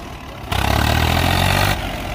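Tractor engines (Sawraj 855, Farmtrack 60, Sonalika 750) straining in a tug-of-war contest, two tractors hitched together; a loud low engine drone surges in partway through with a rapid throbbing pulse, then eases back to a quieter idle.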